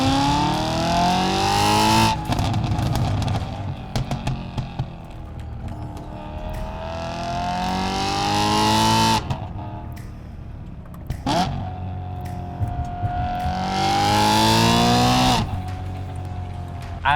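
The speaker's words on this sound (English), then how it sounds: "with the intoxicating engine sounds and all that, exhaust note" A BMW E92 M3 engine revs hard through rising and falling sweeps, its exhaust note loud and close, with a sharp snap between pulls and a brief squeal. No voices are heard.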